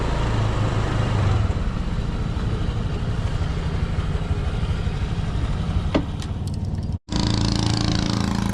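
A motorcycle engine runs steadily in an outdoor setting by a fishing spot, a continuous loud rumbling drone with a brief dropout near the end before it resumes.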